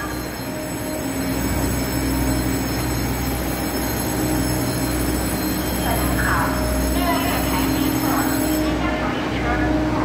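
The EMU888+EMU887 electric multiple unit commuter train passes at close range on Taiwan's Western Line, a loud and continuous rail rumble with wheel and motor noise throughout and faint voices now and then.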